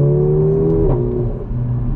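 Mercedes-AMG A-class hatchback (A45 or A35) in sport mode, its engine revving with a steady droning tone that falls off and then picks back up, loud and close, with no talking.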